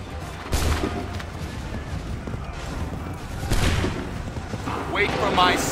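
Musket volleys crack out in an Assassin's Creed III battle, with sharp booming bursts around half a second and three and a half seconds and later rolling gunfire over a constant background din.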